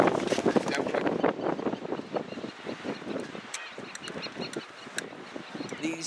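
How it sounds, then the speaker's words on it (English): Chinstrap penguins call in harsh, repeated squawks on Half Moon Island in Antarctica, close and fairly loud over strong cold wind buffeting the microphone. "These are chin strap penguins."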